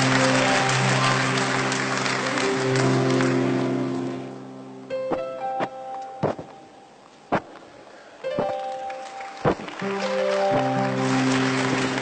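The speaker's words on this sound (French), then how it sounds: "Applaudissez." Audience applause rises as a loud, dense wash of clapping over a sustained tonal background, then dies away after about four seconds into near quiet broken by scattered sharp knocks and brief tones.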